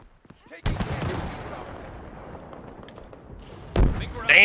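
Gunfire in the Halo Infinite video game: a loud burst of rapid shots near the start, a quieter lingering rumble, then another sharp burst near the end.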